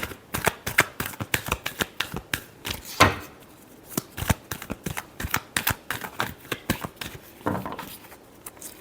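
Tarot cards being shuffled by hand at close range, a rapid run of crisp riffling and slapping bursts that comes in short uneven clusters throughout.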